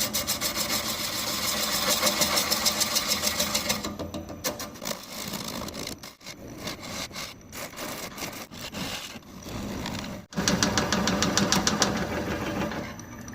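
A freshly sharpened gouge cuts a mesquite bowl spinning on a lathe, a close, continuous rasping hum with a rhythmic whir, shifting texture as the tool moves and briefly dropping out twice.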